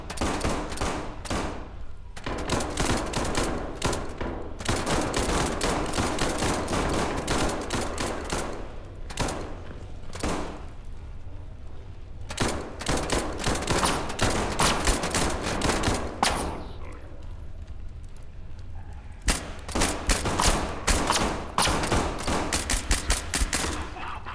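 Heavy gunfire in the video game SCP 5K rattles in long automatic bursts and volleys, loud and close, broken by brief lulls across the stretch.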